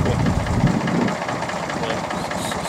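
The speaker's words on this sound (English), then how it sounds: "So I'll turn the camera on the tractor and you can have a look at the very antiquated piece of equipment." Antiquated farm tractor engine idling, a rough, steady chugging drone running throughout, with faint knocking texture and no clear speech over it.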